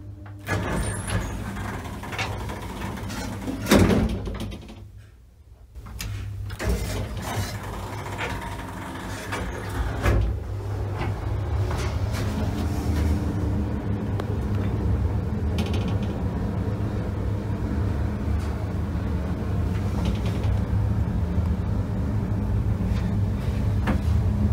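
Ride in a 1960s Schindler R-series winding drum traction elevator, a steady low mechanical hum and rumble with creaks and clunks early on, then a continuous whirring drone.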